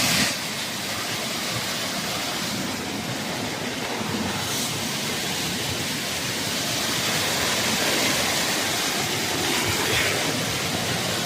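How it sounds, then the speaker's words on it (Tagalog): Heavy typhoon rain in Negros pours down in a dense, steady roar of hissing noise that continues throughout without pause. "Ganito, kalakas ang ulan ngayon dito"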